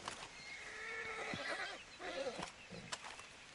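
A horse neighs loudly in Red Dead Redemption 2, a long whinny with shaky, wavering pitch and a few short snorts toward the end, heard close with faint game ambience behind.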